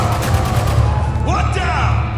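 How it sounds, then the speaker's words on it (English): Heavy gunfire in Spec Ops: The Line roars as a dense, continuous battle din under shouted voices. "Shit, man, we're taking some heavy fire here!"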